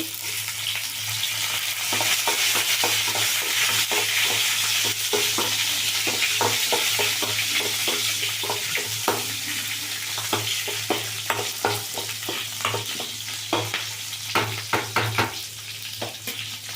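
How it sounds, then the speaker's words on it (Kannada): Green chillies and onion fry in a pan for moong dal, a steady loud sizzle throughout with frequent scraping stir strokes over it, close up and with no voices. "ಇದೆಲ್ಲ ಚೆಂದಾಗಿ ಫ್ರೈ ಆಗಲಿ"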